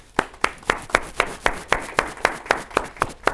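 A live audience at a motivational talk claps in a steady, evenly spaced rhythm, about a dozen sharp close claps over three seconds with no talk.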